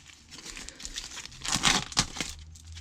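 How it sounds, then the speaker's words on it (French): Tough plastic packaging being torn open and unwrapped by hand, close crinkling and crackling with sharp tearing bursts that grow louder midway through, no talking. "Et si j'arrive à le déballer, c'est toujours pareil."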